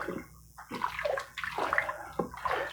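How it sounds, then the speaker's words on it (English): Milk and water being stirred in a pressure cooker on sear, soft sloshing and swirling liquid in short bursts, close up and fairly quiet. "And I'm going to give this a stir."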